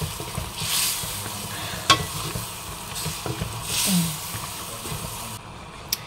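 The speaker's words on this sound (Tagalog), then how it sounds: "Pagalo-aloin lang muna natin, guys." Food cooking in a pan, stirred with a utensil: a steady sizzle and fry under repeated scraping and clattering strokes, close and moderately loud, with no talking.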